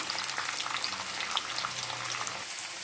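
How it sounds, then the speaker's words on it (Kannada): Garlic, onion, green chilli and ginger tempering sizzles and fries in hot oil in a pan, a steady close crackling hiss throughout with no talking. "ಒಗ್ಗರಣೆ ನೀಟಾಗಿ ಚೆನ್ನಾಗಿ ಬೇಯಿಸ್ಕೊಳ್ಳಿ ಒಂದು ಸ್ವಲ್ಪ ಬ್ರೌನ್ ಕಲರ್ ಬರೋ ತನಕ"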